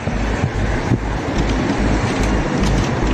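Strong wind buffeting a microphone outdoors beside a 2018 Suzuki GSX-R 1000 sport motorcycle, a steady loud low rumble with gusty surges throughout and no speech.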